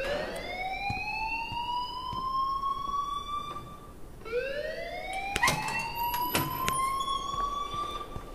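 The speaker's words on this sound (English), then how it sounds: "please turn off that alarm since that's your job" An alarm rises and falls in the video game Life is Strange, a loud wailing siren that sweeps upward twice, with sharp clanks and bangs under the second sweep.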